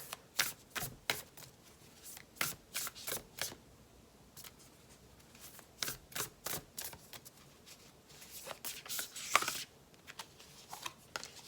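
Sacred Rebel Oracle cards being shuffled by hand, with repeated crisp riffling bursts in irregular clusters, close and fairly quiet, with no speech.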